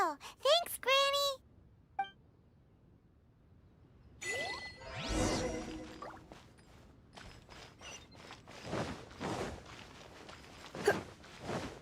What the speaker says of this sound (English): Indeed, this is the cleansing bell.